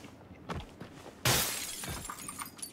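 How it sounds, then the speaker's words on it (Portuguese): A window shatters in PUBG Battlegrounds: a sudden loud crash of breaking glass, with shards tinkling as they fall, after a few softer knocks. "Quebra o vidro mesmo"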